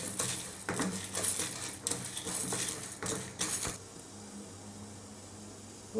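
Urad dal and dried red chillies roasting in a pan, stirred with a utensil in a run of close scraping, rattling strokes that stop after a few seconds, leaving a quiet background.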